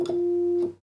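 A Moog MG-1 synthesizer's filter rings as a single steady tone lasting under a second, with short clicks at its start and end before it cuts to silence.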